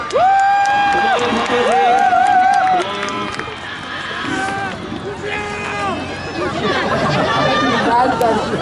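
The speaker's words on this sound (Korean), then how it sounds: "응원과 환호 너무 감사합니다." A concert crowd cheers and screams for a performing K-pop group, with high shrill voices and whoops rising and falling loudly over several seconds amid constant crowd noise.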